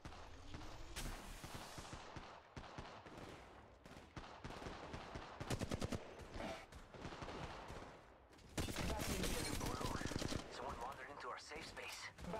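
Rapid bursts of video game gunfire in a squad-based shooter played on iPhone with a controller, crackling volleys that come and go, with a louder sustained barrage near the end and faint in-game voice callouts underneath.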